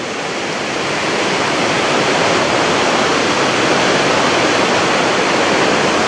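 A waterfall pours into a gorge in Norway, a loud, dense, unbroken rush of water that swells slightly at the start and then holds steady, with no voices.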